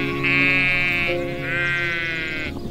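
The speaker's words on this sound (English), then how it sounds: "Seven sheep." A sheep bleats twice in long, wavering, nasal calls, close and clear against a quiet farm background.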